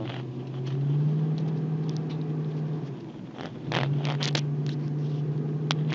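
A Chevrolet Silverado engine fitted with a Banks cold air intake, heard from inside as a steady low drone that rises, drops briefly when the throttle eases, then picks up again, with light rattles and taps.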